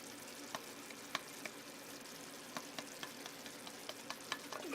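Slumgullion simmers in a pan, a quiet continuous bubbling hiss with small scattered pops and crackles. It stays low and steady throughout with no voices.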